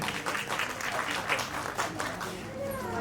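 At a school annual function, the audience claps steadily and moderately, with faint voices mixed into the applause.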